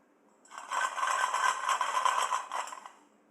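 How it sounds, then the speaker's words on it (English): Ice cubes rattle and scrape inside a water bottle in one continuous shake of about two seconds. The sound is close and clear, with no talk over it, in a quiet room during a tutoring seminar. "Oh, those are ice cubes."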